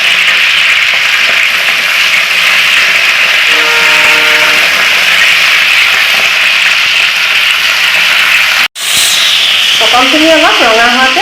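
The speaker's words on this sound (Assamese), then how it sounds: "পটলখিনি অলপ ৰঙা হোৱাকৈ ভাজিব লাগিব।" Pointed gourd frying in oil for a fish curry with melon seeds, a steady close sizzle running throughout, with a brief dropout near the end and a voice speaking over the last seconds.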